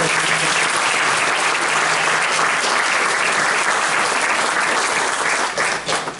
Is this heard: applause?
yes